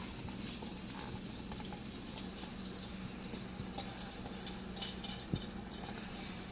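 Soaked split moong dal (mogar dal) tipped into a pan for suva moong dal, with a steady low sizzle, stirring scrapes and a few soft utensil clinks, close and fairly quiet, no voices.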